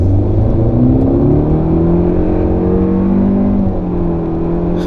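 A 2019 Honda Civic Sport Hatchback with its 1.5-litre turbo accelerates hard with traction control off, the engine note climbing steadily through the revs, loud and close throughout.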